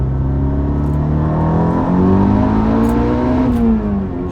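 A tuned 510whp Volkswagen Golf R pulls hard in second gear, its engine note rising steadily and loudly from inside the cabin, with a brief dip as revs settle near the end.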